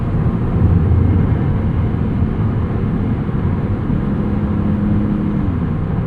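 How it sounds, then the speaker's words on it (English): Maserati MC20 with its 3-liter V6 engine while driving, a steady low engine drone and road rumble that holds evenly throughout, fairly subdued rather than loud. "As you can probably hear, this 3-liter V6 doesn't really sound like much, but it really, really has a lot of performance."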